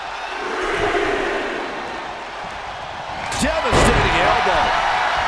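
A body slam and elbow strike in the WWE 2K25 wrestling video game, with thudding impacts over a loud arena crowd roar while a commentator talks throughout.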